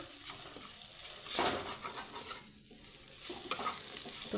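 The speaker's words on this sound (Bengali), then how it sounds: "দেখো এখানে আমার আলুটা খুব সুন্দর করে কিন্তু ভাজা হয়ে গেছে মশলার সাথে" Boiled potatoes fry with spices in a pan, giving a steady sizzle broken by scraping stirs of a spoon against the metal, close and moderately loud, with no voices.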